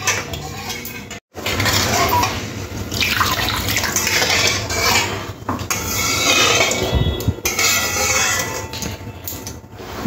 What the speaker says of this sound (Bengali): আরও একটু জল দিয়ে দেব।